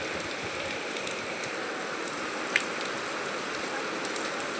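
Heavy monsoon rain falls steadily on surfaces outside a temple, a dense, even hiss with a faint tap near the middle.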